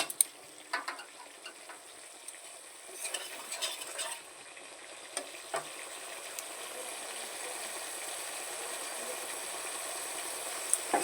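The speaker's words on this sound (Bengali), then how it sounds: "যাতে ভালো করে কষিয়ে নেব তেল ছেড়ে দেয় যেন কোনো কাঁচা গন্ধ না বেরায় মশলা দিয়ে" Spice masala cooking down in oil for an aar and tengra fish curry makes a soft, steady sizzle, with a few light spoon taps and scrapes early on and no voices.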